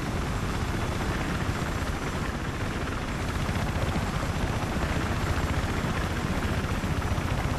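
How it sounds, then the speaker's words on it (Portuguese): A helicopter in the video game Battlefield 3 roars with a dense, steady rotor and engine wash that stays loud and constant throughout, with no voices over it. "Meu, eu não vou entrar nesse helicóptero."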